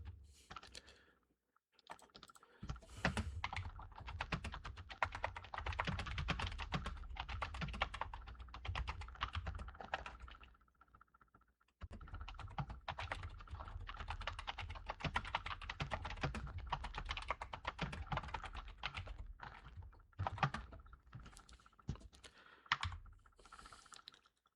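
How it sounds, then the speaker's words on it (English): Steady rapid keystrokes on a computer keyboard, close and fairly loud, running continuously for about eight seconds, pausing briefly, then resuming in dense bursts before tapering off. "So hurry and type that up."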